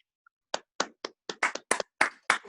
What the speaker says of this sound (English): please help me in giving a virtual round of applause for Mike joining our club.